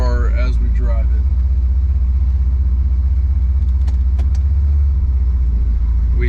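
A 1977 Pontiac Trans Am with a 700R4 four-speed overdrive transmission drives along, its engine a steady loud low rumble close to the mic, with someone talking over it.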